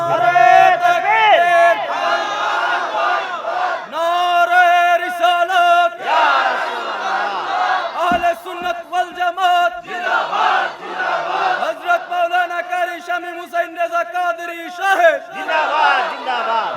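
A large crowd at a Bengali religious sermon shouts a loud, sustained takbir in unison, voices swelling in long chanted waves over a constant roar with brief breaks.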